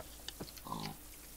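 A brief pig oink from the video game Minecraft, two quick grunts followed by a short nasal squeal, faint and close, with no talk over it.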